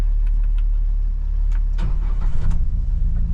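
A Gator utility vehicle with doors cranks and its engine catches, rising from a low rumble to a louder, rougher running sound close by, with a few clicks and clunks at the start.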